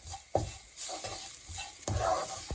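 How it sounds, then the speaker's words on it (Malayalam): Masala fries in a pan for chicken tikka masala while a spoon stirs it, making several scraping strokes and knocks over a soft, continuous sizzle nearby. No one talks. "എന്നിട്ട് ഈ മസാലയുടെയൊക്കെ ആ പച്ചമണം മാറുന്നവരെ ഒന്ന് ഇളക്കി കൊടുക്കാം"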